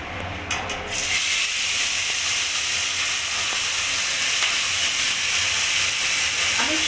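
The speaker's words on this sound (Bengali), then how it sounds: "তেলটা গরম হয়ে গেছে এখানে আমি অল্প অল্প করে মাছগুলোকে ভেজে নেব" Amudi fish pieces dropped into hot oil burst into a loud, steady frying hiss and sizzle that holds evenly for several seconds after a brief quieter start.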